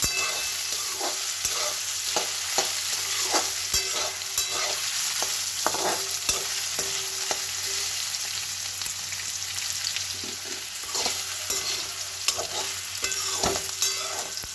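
Potatoes fry with a constant loud sizzle in a pan, and repeated scrapes and taps of a spoon stir them at a fairly even pace, close up with no voices.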